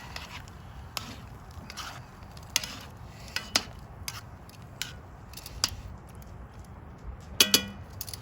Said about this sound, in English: give it one last little mix here